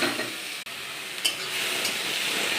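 Garden flowers fry with a little salt in a clay pan, giving a steady close sizzle broken by a brief dip and a couple of light scraping clinks.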